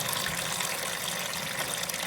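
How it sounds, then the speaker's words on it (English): Water drains from a toilet tank as a steady, broadband rush and hiss. It runs continuously with no pauses and nobody speaks over it. "that's going to take the rest of the water that's in the tank that didn't flush down"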